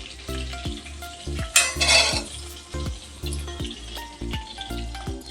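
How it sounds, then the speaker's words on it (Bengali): Dried red chilli and black mustard seeds sizzle and crackle in hot oil for a Bengali prawn curry, with steady frying hiss, a burst of louder spitting midway, and repeated utensil clinks and stirring close by. "ফোড়নে দিচ্ছি একটা শুকনো লঙ্কা আর কালো সর্ষে।"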